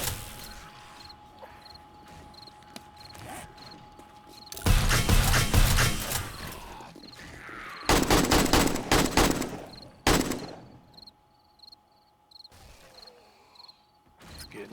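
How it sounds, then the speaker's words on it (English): Gun fighting in the survival game 7 Days to Die, with dense loud bursts of fire in two long stretches and a later shorter one, while quieter mechanical clicks tick between them. "I like the semi-auto on this gun."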